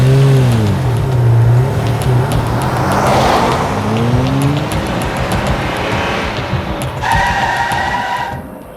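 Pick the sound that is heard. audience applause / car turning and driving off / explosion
car turning and driving off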